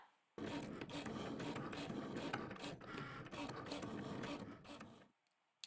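A Cricut cutting machine cutting a stencil, giving a steady mechanical whir with rapid clicking and ratcheting of the moving carriage for about five seconds before it stops abruptly.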